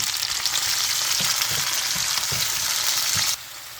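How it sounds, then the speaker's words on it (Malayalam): Chopped tomatoes and onions sauté in a pan for tomato chutney, a loud continuous sizzle broken by several soft scrapes of stirring. The frying drops off abruptly near the end, and no one speaks. "അപ്പോൾ നമ്മുടെ ഇത് തക്കാളിയും സബോളയൊക്കെ കൂടെ കിടന്ന് വഴഞ്ഞ് കിട്ടിയിട്ടുണ്ട്."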